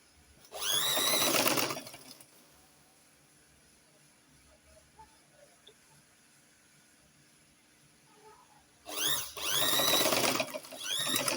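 A sewing machine runs two loud bursts of stitching along a princess dart on a plunging neckline, one short run at the start and another near the end, separated by a long quiet pause.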